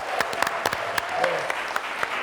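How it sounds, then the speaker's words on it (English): An audience at a live comedy show claps in a short burst of applause with sharp individual hand claps. Someone talks over the clapping. "I think we need another round of applause for Quincy."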